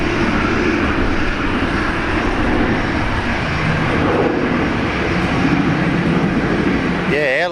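A China Southern airliner at Brisbane Airport gives a loud, steady jet engine roar that fills the whole clip, close and continuous, with a brief wavering tone near the end.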